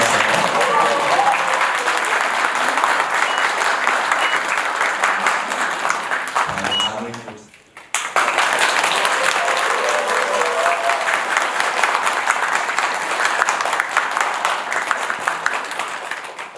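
A crowd at a Buddhist precept-conferral ceremony at Bongguksa temple applauds in a long, dense burst that briefly fades and dips to near quiet, then resumes just as strongly, with voices mixed in.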